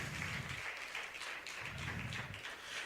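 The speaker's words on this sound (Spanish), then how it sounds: "Gracias a Dios por el aplauso." A church congregation applauds during a sermon, a short dense wash of clapping that sounds somewhat distant and quiet, with no speech over it.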